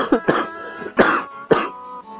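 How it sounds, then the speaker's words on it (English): A person gives four short, harsh coughs close to the microphone, spaced about half a second apart, with a brief throat-clearing quality. "Excuse my coughs."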